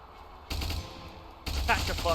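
Shotgun fire in a chaotic Ultimate Epic Battle Simulator fight, two loud, close blasts about a second apart, each followed by a sustained roar of mixed battle noise.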